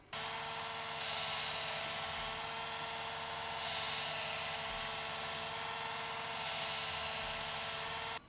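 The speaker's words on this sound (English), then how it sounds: "Last thing left to do is to sharpen this" A power tool sharpens a stonewashed knife blade in three separate grinding bursts, each a bright, sustained whine over a constant motor hum.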